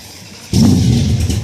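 A 1968 Plymouth Barracuda Formula S with a 496 engine catches and roars to life partway through, settling into a loud, steady low rumble up close.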